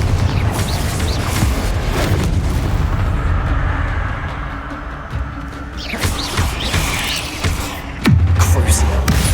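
The Confringo blast spell cast in Hogwarts Legacy on Xbox: heavy booming bursts and crashes over a rumbling game soundscape, with sharp impacts near the six- and eight-second marks.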